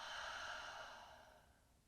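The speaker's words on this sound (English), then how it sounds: "we're going to take a deep breath in and an exhale" A deep breath drawn in and let out during a strong vinyasa yoga flow, one soft airy breath that is fuller at first and fades over about two seconds, alone without talk.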